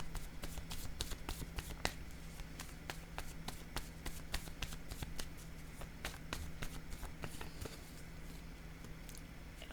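Playing cards handled during a card reading, shuffled and laid down as a steady run of quiet, crisp flicks and taps, close and faint with no talk.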